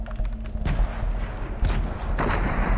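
Thrown bombs exploding in Fortnite, several loud blasts in quick succession over a busy game soundscape, close and punchy.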